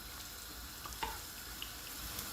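Onion and garlic frying together in a pan while a gombo dish is being prepared give a steady, soft, hissing sizzle, broken by a few small crackles and pops, with no voices.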